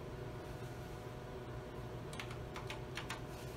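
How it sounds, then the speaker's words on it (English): Keys clatter on a Tektronix 4052 computer keyboard during data entry, a short burst of about six quick, faint clicks near the end over a constant low machine hum. "we're typing on the 4052 to enter the data"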